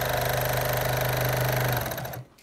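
A sewing machine stitches in the ditch on a t-shirt quilt, running with a loud, close and steady mechanical whir before it slows and stops near the end.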